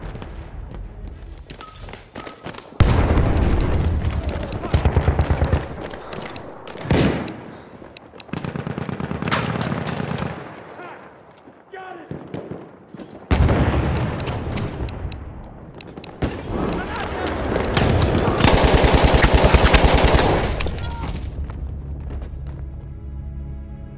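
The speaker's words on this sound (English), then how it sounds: "Machine gun! Over there!" Machine gun fire in the Battlefield 1 video game on the Argonne forest map, loud sustained automatic bursts with booming impacts, broken by brief lulls and growing denser toward the end, with no talk.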